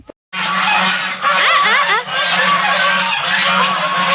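Geese honk in a park, loud and near, with repeated overlapping calls that keep going steadily after a brief silent start.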